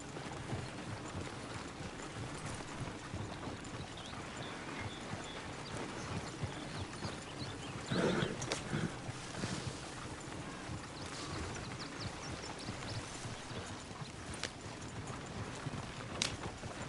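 Horse hooves clip-clop steadily beneath a rider in the Red Dead Redemption 2 video game, a continuous trotting rhythm over ambient outdoor sound, with a brief louder scuffle midway.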